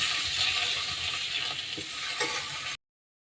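Meat sautéing with chilli, coriander, cumin powder and salt for a brinjal, potato and fish curry, a loud close sizzle with faint stirring scrapes, then abrupt silence near the end.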